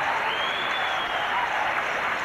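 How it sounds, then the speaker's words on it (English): Cricket crowd at a one-day match between Sri Lanka and the West Indies roars and cheers in a continuous, dense wash of voices and clapping heard from a distance. "A big cheer goes up here."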